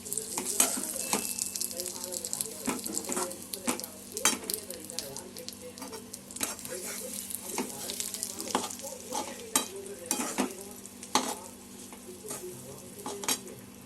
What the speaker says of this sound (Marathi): आता आपल्याला चांगलं हे मिक्स करून घ्यायचं आहे म्हणजे गुळ त्याच्यामध्ये पूर्णपणे मिक्स होईल